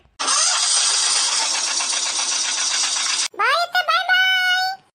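A vehicle engine starts up close by with a loud hissing, cranking burst, then catches and revs with a rising tone in a few short pulses.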